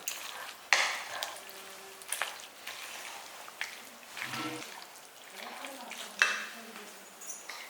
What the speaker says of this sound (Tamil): இப்போ வந்து நம்ம ரெட் சில்லி பவுடரும் போட்டு நல்லா கலந்து விட்டுடலாம்